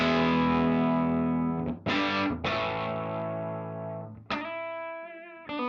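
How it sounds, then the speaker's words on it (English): An electric guitar plays through a JHS Andy Timmons overdrive pedal with the gain turned fully down into a 50-watt amp at half volume, giving a fairly clean tone: long ringing chords, then a few struck chords that let sustain decay, close and alone. "we're taking all of the gain off the pedal"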